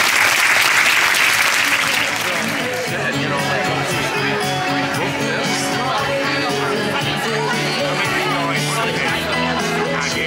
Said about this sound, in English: Nice round of applause for them and the F&B team